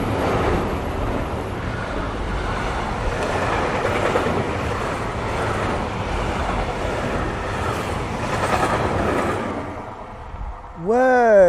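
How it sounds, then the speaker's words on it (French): A train rumbles steadily past on the rails for several seconds, loud and close with wind buffeting the microphone, then fades as a sharp squealing tone rises at the end; voices can be heard faintly. "j'attends que le train il passe"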